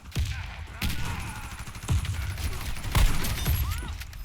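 Rapid bursts of gunfire from an online shooter game fire in several sharp volleys over a steady background hum, fairly close and loud.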